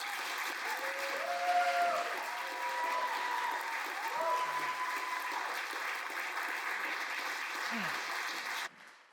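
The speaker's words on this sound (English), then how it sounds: "I think all of our frontline workers deserve a round of applause." Audience applause for frontline medical workers, a steady wash of clapping lasting several seconds with some voices mixed in, cutting off abruptly near the end.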